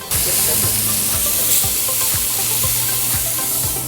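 Smashed burger patty sizzling on a hot charcoal plancha, a steady loud hiss and crackle running throughout with repeated soft scraping or pressing knocks.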